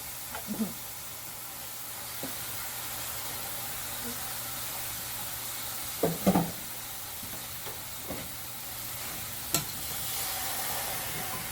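A spoon stirs egusi soup with beef strips in a pot, giving soft scrapes and a few sharper clinks over a faint background sizzle. The sound is quiet and close, with no talking.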